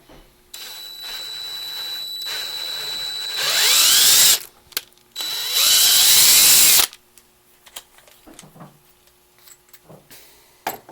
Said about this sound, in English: Once you have it drilled out to a 9/64, you're going to want to tap it 832.